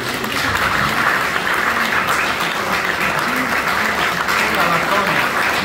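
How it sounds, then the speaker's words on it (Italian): Steady audience applause at an Italian award ceremony, a dense, continuous clapping from a full room that holds at an even level throughout with no talk over it. "L'applauso del pubblico."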